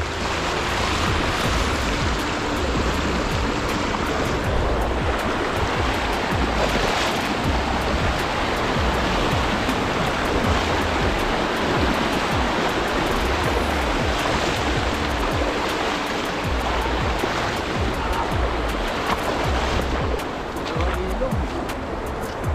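A fast-flowing river in Taiwan being crossed on foot, its loud broadband rushing roar continuous and close throughout, with people talking over the water.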